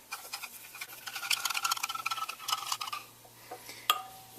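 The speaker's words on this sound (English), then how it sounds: "I'm just going to use a test tube to stir." A test tube stirring Epsom salt dissolved in water, giving a quick run of light glassy clinks and taps at close range, busiest in the middle and ending with one sharper tick.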